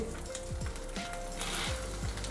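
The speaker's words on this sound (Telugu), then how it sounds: "పల్లీలు కొన్ని వేగిన తర్వాత దీంట్లోకి శనగపప్పు, మినపప్పు, ఎండుమిర్చి" Peanuts, chana dal, urad dal and dried red chilies frying in oil, a close steady sizzle with a few soft scraping stirs, fairly quiet and without talk.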